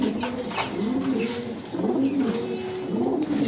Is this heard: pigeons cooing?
yes